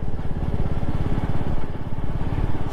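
A motorcycle engine runs steadily close by, with a low, even throbbing pulse that holds throughout and no talking over it.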